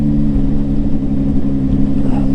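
A Zontes 703F motorcycle engine runs close by as the throttle is worked, a loud, steady low-pitched rumble with a slight swell in revs, and no voices over it.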